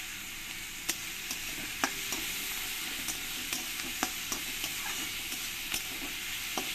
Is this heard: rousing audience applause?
no